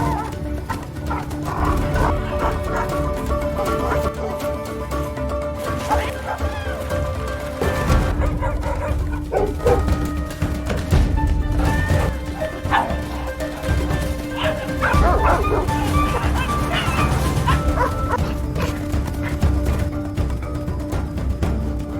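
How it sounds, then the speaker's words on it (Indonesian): A pack of dogs barks and yips in a frantic chase after a cat in an animated film, a busy layered mix of overlapping barks and whimpers under a steady score. "Bami pun dikejar-kejar anjing kawanan."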